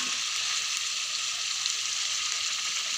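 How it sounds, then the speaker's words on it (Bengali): Spices with coriander and cumin sautéing in a pan for a duck curry, a steady bright hiss of frying, even and continuous at close range without stirring knocks or voices. "ধনে, জিরে ভালো করে দিয়ে এটাকে কষতে থাকবো"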